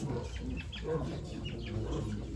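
Chickens cluck softly amid a low farmyard murmur at a poultry auction in Ankara, their calls faint and scattered over a steady background hum.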